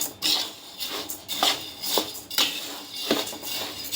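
Repeated scraping and clinking of a utensil against a bowl while mixing chakli flour ingredients, rhythmic stirring strokes at a moderate, quiet level.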